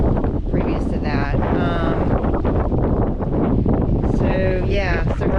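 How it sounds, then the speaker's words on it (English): Loud, constant wind buffeting a microphone on an anchored sailboat, with a low roar throughout, while a person talks over it. "we're out here anchored, and it's quite windy"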